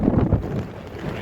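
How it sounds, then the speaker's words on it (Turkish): Strong gusty wind buffets the microphone outdoors in Baku, Azerbaijan, a loud low rumble that swells and eases over a little more than a second, with no speech. "Rüzgar var."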